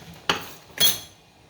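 A spoon dragged across salted saltfish to strip off its scales gives two short, dry scraping strokes with a quiet pause between them, heard close and with no voices.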